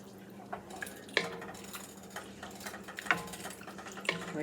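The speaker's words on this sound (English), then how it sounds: "Give this a quick stir." Creamy fall soup being stirred in a pot, with a few soft scraping and clinking taps of the utensil against the pot over a low steady hum, quiet and close.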